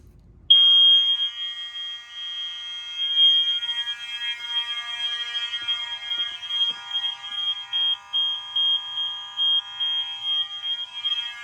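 An ESL 404 fire alarm horn sounds during a fire alarm system test. After a brief quiet start it blares in a piercing, steady electronic tone, pulsing in a regular beat close to the listener.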